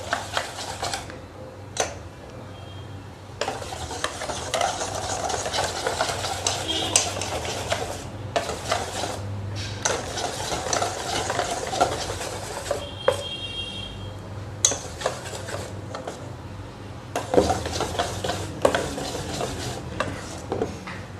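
A utensil stirs gram flour batter for dhokla in a bowl, giving close, repeated scraping and tapping knocks against the dish that come in irregular bursts with short pauses between them.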